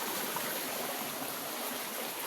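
The Laya River in Candulawan, Talisay City, Cebu flows as a shallow stream, a continuous close rushing and trickling wash of water with no voices.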